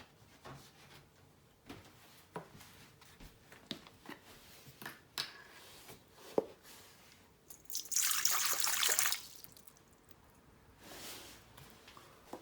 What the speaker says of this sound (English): we're going to be adding 165 grams of water to our bowl